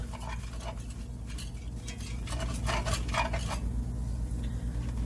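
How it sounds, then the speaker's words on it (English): A whisk works ingredients together in a bowl for a turkey Salisbury steak and tomato gravy, making quick rhythmic scraping and clinking bursts against the sides, close and fairly quiet over a low background hum. "As I'm grabbing my whisk here, we want to kind of whisk this together"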